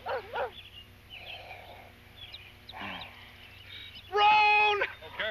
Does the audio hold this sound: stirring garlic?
no